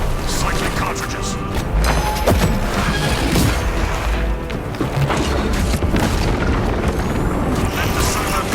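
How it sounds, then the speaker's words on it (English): A servo gun fires in Warhammer 40,000: Space Marine 2 multiplayer co-op, its heavy booming blasts and crashes running continuously through loud, dense battle noise with voices mixed in. "Let the servo gun do its job."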